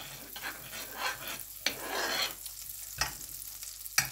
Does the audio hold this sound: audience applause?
no